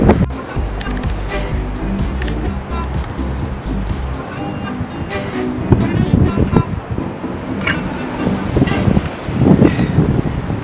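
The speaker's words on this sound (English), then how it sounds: "It's so damn windy out here." Strong gusty Denver wind buffets the microphone in loud, uneven roaring bursts, with surging noise throughout.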